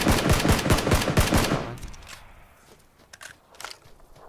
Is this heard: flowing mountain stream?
no